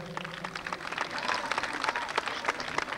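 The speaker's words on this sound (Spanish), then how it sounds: "Un aplauso para todas ellas." Applause from a crowd at a Miss Tehuitzingo 1998 beauty pageant, a dense, steady patter of many hands clapping for about three seconds, close and moderately loud, with faint voices mixed in.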